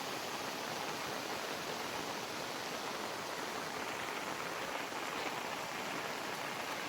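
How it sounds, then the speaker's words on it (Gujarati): Torrential rainwater rushing down from the hills along a village lane, a steady, dense, broadband roar of flowing water, continuous and unbroken, with no voices. "ધોધમાર પાણી આવ્યું છે"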